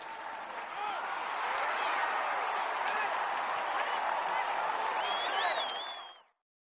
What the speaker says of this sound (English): Let's get it. The round of applause.